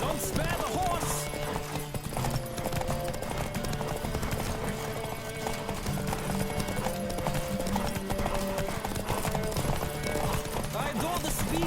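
Steady galloping hoofbeats of a horse in The Witcher 3: Wild Hunt, running continuously at speed with a brief whinny and game voices talking over the rhythm.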